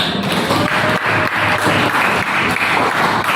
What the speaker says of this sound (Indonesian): Jadi tepuk tangan dulu yang sudah berani.